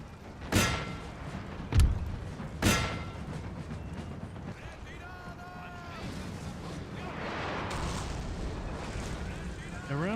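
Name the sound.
artillery guns firing, Napoleon Total War video game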